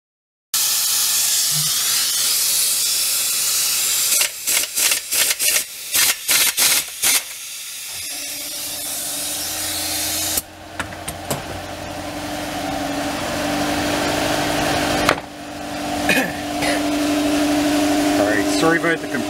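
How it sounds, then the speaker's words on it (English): Steady loud hiss and rumble of an air compressor running in a workshop during repair of a Husqvarna 760 cut-off saw, with bursts of air and clatter, then a quieter hum with tool noises. "Sorry about the compressor noise."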